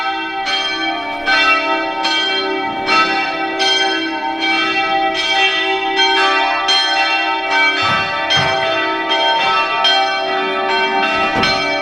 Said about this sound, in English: Listen to the sounds of these church bells.